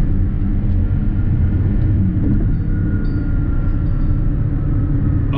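A 2022 Lexus NX450h+ plug-in hybrid accelerates in sport mode, a steady heavy cabin rumble of road and drivetrain noise that stays even and continuous throughout.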